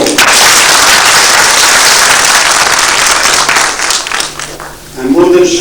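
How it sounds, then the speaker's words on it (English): Sustained applause from a symposium audience welcoming a speaker, dense and loud for several seconds before thinning briefly, with a voice starting to speak over the tail end. "Let me request you all to join me in applauding his achievements on this unique occasion and give him a big hand of welcome."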